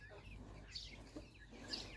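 Faint, soft clucking from young chickens close by, a few short calls over a quiet low background.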